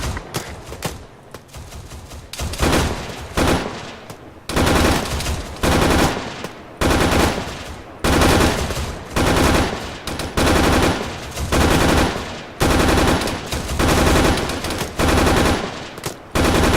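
Rapid automatic gunfire rings out during military weapons training at a 100-metre range, loud, close bursts of fast repeated shots lasting about a second each, separated by brief gaps, with no speech.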